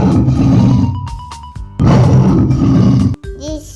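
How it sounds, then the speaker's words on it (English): A lion in a children's animation of wild animal sounds gives two long, loud, rumbling roars separated by a short gap, followed by a brief chiming tone. "This is a lion."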